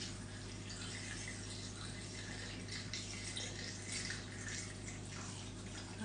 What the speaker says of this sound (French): Et donc là, je vais rajouter mes 500 grammes d'eau.